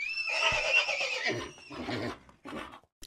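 A loud, close horse neigh sound effect whinnies for about two seconds, followed by a couple of shorter snorting bursts, heard alone without talk during a children's read-aloud story.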